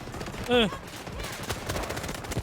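Gunfire in the tactical shooter Delta Force, a rapid, dense burst of shots rattling under excited talk, following a brief rising tonal sweep.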